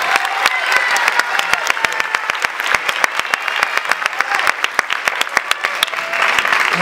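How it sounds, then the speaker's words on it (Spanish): Theater audience applauding the costume manager at the closing performance of the musical La Jaula de las Locas, a dense, loud, sustained wash of many hands clapping with sharp claps standing out throughout. "Un aplauso para ella,"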